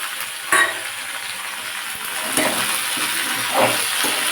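Mixed vegetables with drumsticks and green peas for shukto are stirred in a frying pan, a steady sizzle with a few sharp scraping clinks of the spatula against the pan.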